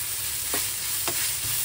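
Mawa (milk solids) sizzles in a hot pan while being stirred, a steady frying hiss with two distinct scraping strokes of the spoon.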